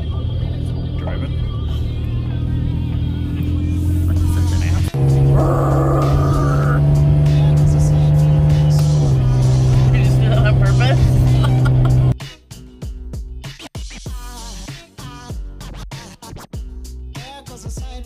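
A car is driving, its engine hum and road noise holding steady and loud for about twelve seconds before shifting to a rougher, more broken rumble.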